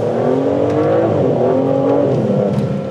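An Aston Martin Vanquish V12 twin-turbo engine drones loudly and continuously from close by, its pitch swelling and easing in smooth waves as the car accelerates.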